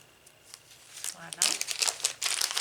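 A plastic package of fabric flowers is torn open up close, with bursts of crinkling and tearing plastic that grow louder toward the end as someone speaks briefly.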